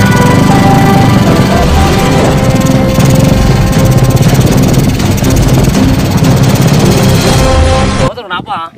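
A sputtering motorcycle engine runs loud and close, with a rough, uneven chatter for most of the stretch. It cuts out abruptly near the end.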